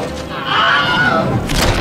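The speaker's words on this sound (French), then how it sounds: "C'est un effet sonore de quelqu'un qui crie," A stock film scream effect of a person crying out: a single loud, strained, wavering scream lasting about a second, rising over a dense, rumbling battle-like background.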